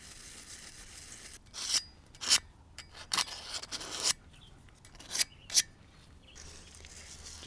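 A brush dipped in acetone scrubs excavator hydraulic pump parts during a rebuild, giving intermittent short rasping strokes in bursts, close up and fairly quiet, with pauses of near silence between them.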